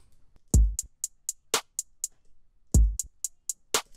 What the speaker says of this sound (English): I can make this hi-hat a lot tighter by turning down the sustain